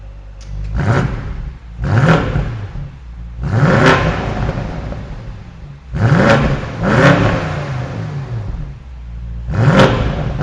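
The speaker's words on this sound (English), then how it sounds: "let's go ahead and hear how this engine sounds." A 2019 BMW M850i Convertible engine revs hard in repeated bursts, about six loud roaring blips separated by brief idling lulls, close and with no talking.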